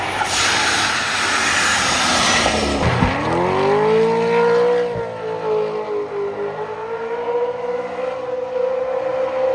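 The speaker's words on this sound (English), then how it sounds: "It starts from a stop, and then we're gonna race in the Danger Ranger 9000." The Danger Ranger 9000 pulls away from a stop on a circle track, its engine roaring loudly and climbing through gear changes, with a sharp shift dip before settling into a steady, strained drone.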